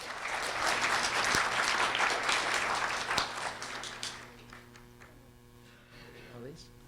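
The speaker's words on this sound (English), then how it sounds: "a round of applause for Darlisa." A room applauds a second grade student at a school recognition event, a few seconds of full, lively clapping over a faint electrical hum, then thinning and dying away to a quiet room with light stirring.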